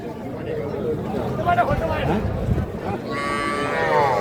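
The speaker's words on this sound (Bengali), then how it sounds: "এই যে আমরা শুরুতে বেশ কিছু বাসুর বাসুর গরু দেখতেছি" Calves at a cattle market low and moo, a few drawn-out calls standing out over the market noise while people talk nearby.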